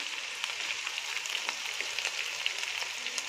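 A continuous close sizzle rises from chicken fried rice frying in a pan after a spoonful of homemade soy sauce is added, with scattered crackles and light stirring taps.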